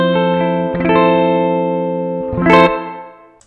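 Sustained electric guitar chords through a Strymon BlueSky reverb pedal in plate mode ring out with a lush, shimmering reverb tail, two strums that decay smoothly into a wash of echo.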